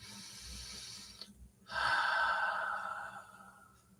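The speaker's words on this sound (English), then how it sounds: "Take a big deep breath." A single deep breath taken during a guided session, a long audible inhale rising after a brief pause and slowly fading out, close and alone with no talking.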